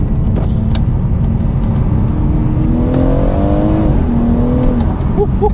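BMW M140i with its exhaust valve held permanently open, a loud close-up engine drone rising and falling through revs, deep and bassy throughout with no talk.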